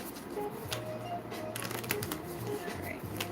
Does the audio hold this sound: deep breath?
no